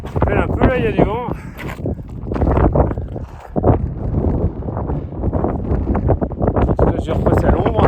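Strong wind sweeps across a mountain ridge in Corsica, a steady roaring rush that buffets the microphone throughout, with a voice heard briefly near the start.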